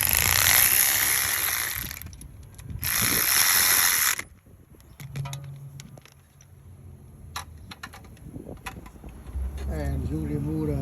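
A socket ratchet clicks in short, quick pawl runs while removing starter bolts on a 2013 Dodge Challenger 5.7L, each run fairly close and brief between quieter pauses, with a voice speaking over parts.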